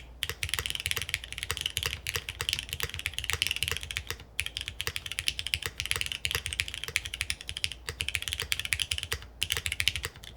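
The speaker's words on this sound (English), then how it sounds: "I think this actually has a more thunky spacebar than the CU series." Rapid, continuous typing on a Neo75 mechanical keyboard with a thunky spacebar, heard up close as dense, clacky keystrokes with only a few brief pauses, and no talking.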